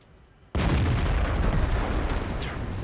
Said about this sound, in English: I'm not sure where that shot went, actually.